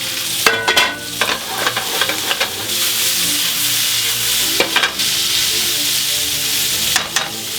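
Food sizzles steadily in a frying pan as it is turned over, with a constant hiss broken by several sharp scraping, clattering strokes of the utensil.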